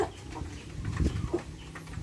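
Barred Rock chickens cluck softly and intermittently nearby, with faint farmyard background noise.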